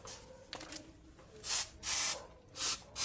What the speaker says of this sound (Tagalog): Spray mo lang mamatay na yan.